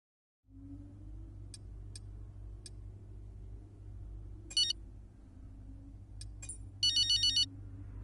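Telephone ringing inside the F1 2023 video game: sparse electronic beeps early on, then short bursts of trilling rings over a low steady engine-like rumble, with no voices.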